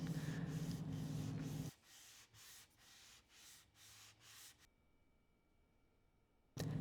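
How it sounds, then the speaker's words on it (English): A guitar fretboard radius is sanded by hand to remove machining marks, heard as rhythmic back-and-forth rubbing strokes, louder and continuous at first, then a series of softer separate passes close by. "then I'll sand the radius down just to get rid of any machining marks"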